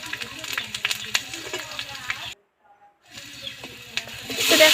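Taro pieces fry in hot oil with green chili and cumin, giving a crackling, bubbling sizzle with a brief silent gap partway through before the sizzle returns and grows louder.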